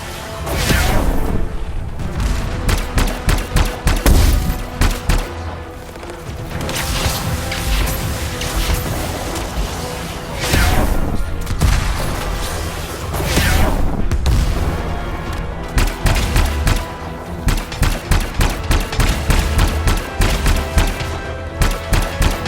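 Weapons fire on crystals in the video game Anthem comes as dense, loud volleys of shots and booming blasts in rapid bursts with brief lulls, continuous and close.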